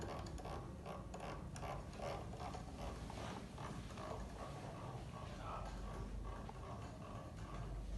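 Feeder gear on the extruder of a Creality Ender 3 V2 3D printer turning, a steady clicking and ratcheting mechanical whir that runs close and continuous for the whole stretch.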